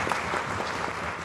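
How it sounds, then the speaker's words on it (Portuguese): A crowd claps steadily, a dense wash of hand claps at moderate volume, heard alone without any talking. "é um aplauso que nós temos que dar"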